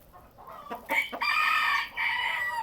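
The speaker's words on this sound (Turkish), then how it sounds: "Şunlar da normal tavuk." Chickens cluck and a rooster gives a short crowing call, close by, in several bursts with brief pauses between them.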